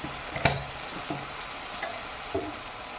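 Ground masala with turmeric stirred in a hot pan: a soft steady sizzle punctuated by a handful of distinct spoon scrapes and knocks, the loudest early on.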